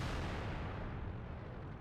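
A tank cannon fires in World of Tanks from a Rhm.B WF (Borsig) tank destroyer, a single loud booming blast that fills the whole moment and rolls away slowly.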